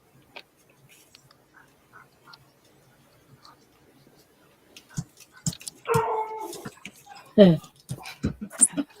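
Several dogs pant and whimper indoors, faint and sparse at first, then louder close bursts of whining and breathing, with a soft voice murmuring in the background.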